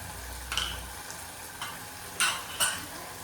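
Fenugreek greens with salt, turmeric and coriander-cumin powder are stirred in a pan, giving quiet sizzling broken by a few sharp scrapes and taps of the spoon against the pan.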